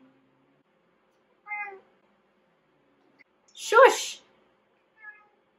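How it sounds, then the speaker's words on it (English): A pet cat indoors meows several times in short calls, one louder and rougher near the middle and a faint one at the end, with a person briefly speaking. "Interruption from the cat."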